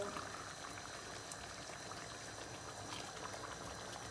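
A pot of spicy chicken stew with water heats toward a boil, a faint steady bubbling hiss with a low rumble underneath and no voices.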